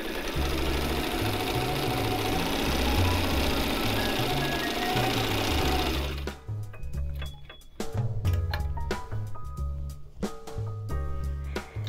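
A vintage White 173 sewing machine runs steadily while stitching wavy lines on a layered quilt, a fast, even mechanical whir that gives way to slower, uneven clicking and ticking as it slows, with no talk.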